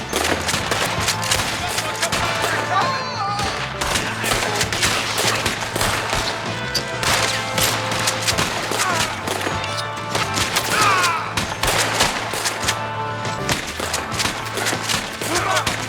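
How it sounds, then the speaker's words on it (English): Sustained gunfire and rapid bursts from a tower in a video game battle, loud and continuous across the whole stretch, with shouted voices now and then beneath the shooting. "We got one shooting from the tower!"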